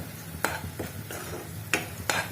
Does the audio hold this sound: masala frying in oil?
yes